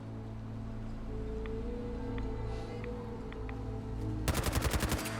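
Fallout 4 gunfire, a rapid burst of about eight loud automatic shots near the end that breaks through a quiet, low ambient hum.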